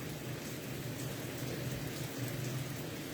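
Rain falls steadily outside as a constant broadband hiss of drops on surfaces, faint and distant with a low rumbling undertone.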